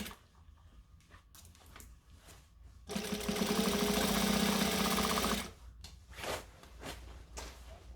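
A sewing machine back stitches a McCall's M6442 jacket in one loud, fast mechanical burst of about two and a half seconds, flanked by quieter handling clicks and thumps.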